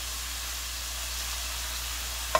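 Shrimp frying in a pan for fried rice, a steady, even sizzle held close throughout, ending in one brief tap, with no voices.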